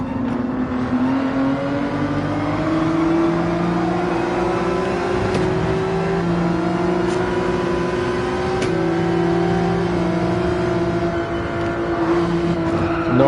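Race car engine in Gran Turismo 7 drones steadily and loudly at high revs with shifting harmonic pitch, holding near-constant throttle through the whole stretch with faint brief clicks, no talk.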